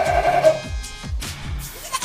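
A goat bleats in a series of short, quavering calls, several close-up bleats in quick succession with no talk.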